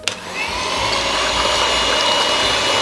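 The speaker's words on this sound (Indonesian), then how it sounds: "terus gula kita masukkan, iya, kita mixer" An electric mixer whirs steadily as it beats sugar for cake batter, a loud continuous motor hum that starts abruptly and holds at an even pitch.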